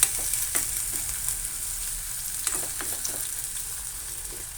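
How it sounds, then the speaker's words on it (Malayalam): Ginger and garlic stir-fried in a pan for fish curry, a steady close sizzle broken by scattered scraping clicks from a spoon moving through it, with no talking. "കുറച്ച് ഇഞ്ചി വെളുത്തുള്ളി. ഇനി അത് നന്നായി ഇളക്കി കൊടുക്കണം"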